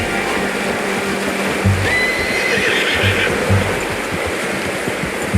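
A horse neighs in Red Dead Redemption 2 against a steady rushing wash like flowing water, with a few soft hoof thuds and a brief whinny-like tone near the middle.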